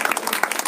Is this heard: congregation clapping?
yes